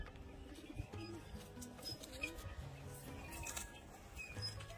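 Pet pigeons, including a young pair, coo softly and repeatedly at close range, the low throaty calls overlapping over a faint background hiss.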